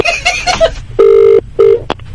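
A loud electronic phone tone sounds in two steady beeps, preceded by a few quicker warbling tones, close and clear.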